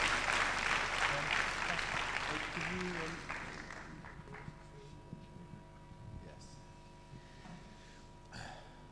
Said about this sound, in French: Let's applaud one more time for all of these great groups.